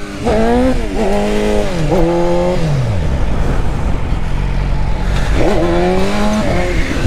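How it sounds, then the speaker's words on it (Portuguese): A faired sport motorcycle's engine revs loudly and repeatedly, pitch climbing and falling in surges, with a steady low rumble between revs. "Muita força a moto aqui."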